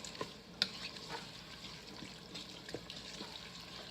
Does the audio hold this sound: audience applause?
no